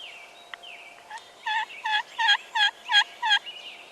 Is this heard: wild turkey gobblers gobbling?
yes